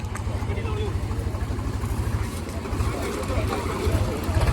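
A tractor engine labours hard to pull a stuck old Thar off-road through mud, a loud, rapid diesel thrumming that rises toward the end while people talk and shout over it.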